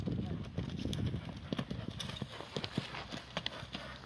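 Hooves of a small bay horse, apparently of Percheron breed and sold for ulak games, clip-clop on hard ground in an uneven walking rhythm while someone narrates over them.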